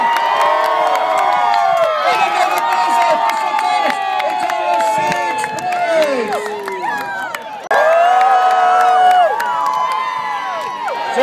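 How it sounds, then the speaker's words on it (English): Crowd at a Renaissance fair joust cheering on a charging knight: many close, excited voices shouting, whooping and screaming in overlapping bursts, loud and continuous with a fresh surge near the end. "Remember to cheer your knight as they go into their charge."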